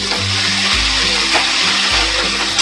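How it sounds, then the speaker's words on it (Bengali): Onion frying in a pan for a chicken-in-milk curry, a steady dense sizzle with a low rumbling hum that swells and drops in a few regular cycles, close and moderately loud with no talk. "পেঁয়াজটা ভাজা হয়ে গেছে।"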